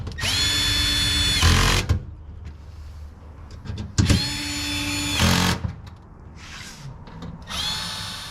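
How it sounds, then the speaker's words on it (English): A Milwaukee torque gun tightens bolts on an under-seat storage unit in a 2022 Toyota Tundra, firing in three loud, whining bursts of a second or two each, separated by pauses filled with faint handling clatter. "I'm using a Milwaukee torque gun, and I'm going to set it to 13. And I'm going to tighten all these down."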